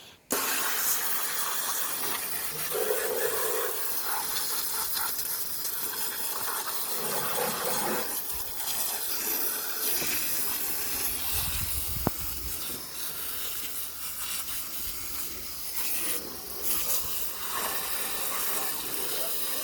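A steady, broad hiss of a water jet spraying through foliage and debris packed in a car's cooling system runs for about twenty seconds, fairly close and continuous, with brief splashy shifts and no talking.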